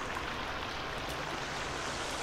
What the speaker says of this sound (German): Es plätschert schon wieder so doll.